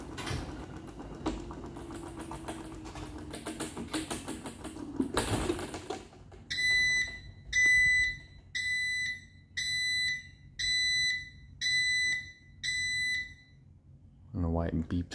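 After some rattling handling noise, an electronic alarm system running in battery backup mode beeps in a steady series of about eight evenly spaced, high-pitched tones.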